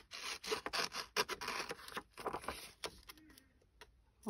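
Scissors trimming washi sticker paper for scrapbooking, a close run of crisp cutting snips and paper rustle that thins out into near quiet before a last sharp sound at the end.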